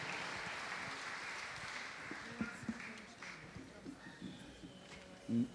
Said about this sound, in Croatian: Ne, ne možemo početi svirati dok ne prestanete pljeskat.